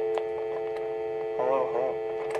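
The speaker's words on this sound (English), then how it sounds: "Take the rotary phone off the hook. You hear that." A rotary telephone handset is lifted off the hook, and a steady humming line tone drones continuously. A brief wavering sound rises over it midway.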